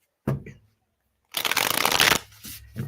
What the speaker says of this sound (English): I'm just shuffling and shuffling and shuffling. I like to get a good shuffle in here.